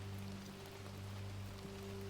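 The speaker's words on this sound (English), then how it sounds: "The rain still falls outside." Rain falls softly outside at night beside a burned-down fire in an old Chinese tea house, a faint, even patter with a low steady hum underneath.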